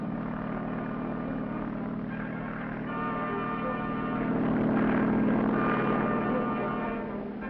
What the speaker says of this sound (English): Carrier helicopters also play an important role on the sub-hunting team.